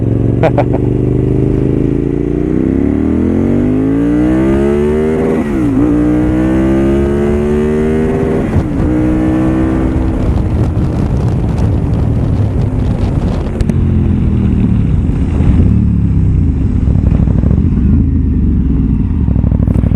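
A loud KTM 990 SMT supermoto motorcycle engine revs up and down through several gear shifts, carrying two riders, with rising and falling pitch and heavy wind rush at the microphone.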